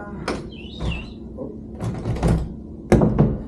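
Worn door with blown-out hinges in a house being inspected, opened and closed in a few separate thumps and creaks, close and moderately loud, with no voices.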